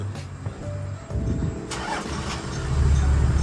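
A 1997 Toyota Land Cruiser 70 engine cranks and catches, then settles into a deep, steady idle that grows louder and rumbles on.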